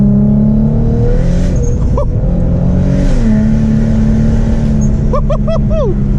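A loud turbocharged car engine drones and surges close by under acceleration, with sharp whistling turbo chirps near the end.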